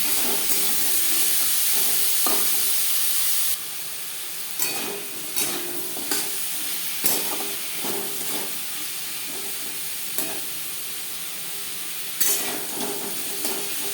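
Jute leaves cooking in a pan on a gas stove hiss and sizzle steadily, with regular scraping and knocking of a spoon as they are stirred, and no voices.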